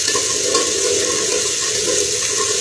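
Onions frying in a pan as they turn nearly red, giving a steady, fairly loud broadband sizzle that stays even and close throughout, with no talking.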